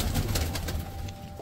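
Pigeons coo softly in a loft, a close, rolling murmur of several birds that repeats without pause and has no talk over it.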